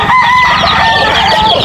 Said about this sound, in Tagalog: tignan nyo yung mga sisiw natin